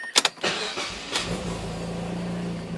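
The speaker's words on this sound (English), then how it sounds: "So I'm going to go ahead and turn on the car." A car engine starting: a few quick clicks and a cranking burst, then the motor catches into a low, steady idle hum, heard close from inside the car.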